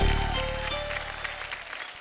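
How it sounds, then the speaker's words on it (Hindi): Studio audience applause for the four contestants on a Bhojpuri television game show, a loud burst of dense clapping that fades over two seconds. "तो एक बार हमार चारों मेम साहब खातिर जोरदार ताली"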